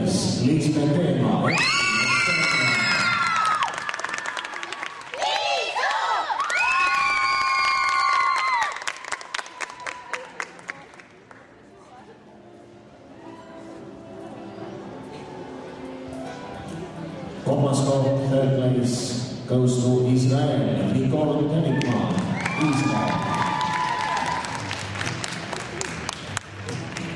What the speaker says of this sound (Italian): Applausi per te.